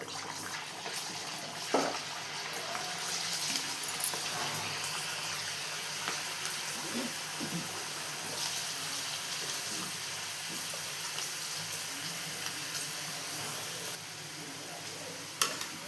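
Amla (Indian gooseberries) frying in hot oil: a dense, continuous sizzle and crackle holds steady for the whole stretch, close and fairly loud, with occasional soft knocks of stirring.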